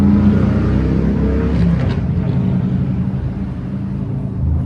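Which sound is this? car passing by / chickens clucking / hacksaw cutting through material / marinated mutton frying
car passing by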